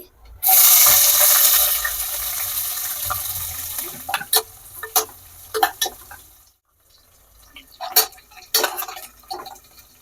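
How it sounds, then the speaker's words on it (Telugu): Onions hit hot oil in a pan for mutton biryani, setting off a loud burst of sizzling that gradually fades, followed by scattered metallic clinks of stirring. "ఇప్పుడు ఆనియన్స్ వేస్తున్నానండి"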